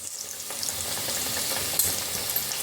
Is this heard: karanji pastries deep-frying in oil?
yes